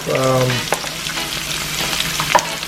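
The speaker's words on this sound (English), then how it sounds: "So I'm just going to get this sauteed up." Onions, peppers and garlic sautéing in a pan for ackee and saltfish, a dense close sizzle with scattered stirring clicks, opening with a brief tonal utensil ring.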